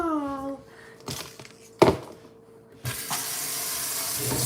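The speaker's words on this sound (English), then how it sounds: "So let me rinse off this spoon." Tap water runs at a home sink to rinse a spoon, starting in short bursts with a clunk and then flowing steadily, heard close with no talking over it.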